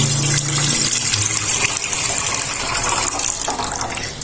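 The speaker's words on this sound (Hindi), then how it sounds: "तो हम इसमें डाल देंगे दूध।" Milk poured into a pan while preparing shahi tukray, a steady close gushing liquid stream lasting the whole stretch with no talk.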